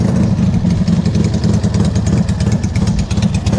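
Dnepr motorcycle with a poorly tuned carburetor idles close by, a loud, lumpy, uneven chugging of pulses and clattering beats without any talk.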